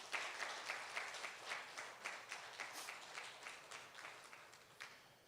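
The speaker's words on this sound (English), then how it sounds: "Please give him one more round of applause." An audience at a summit applauds a speaker, moderately distant, steady clapping that swells and dips in soft waves across several seconds.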